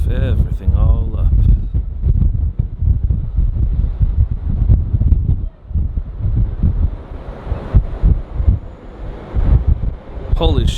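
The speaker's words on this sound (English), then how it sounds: "it's getting windy" Strong wind buffets the microphone at Los Angeles International Airport by an approach path, a heavy low roar gusting and surging throughout, with a voice briefly heard at the start and end.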